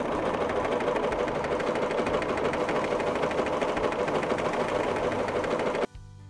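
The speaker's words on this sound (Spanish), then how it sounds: "Al bajar la palanca puedo accionar el pedal y la máquina va a comenzar a coser." A sewing machine stitches fabric in a steady, even whirring drone for about six seconds, close and loud, then stops abruptly.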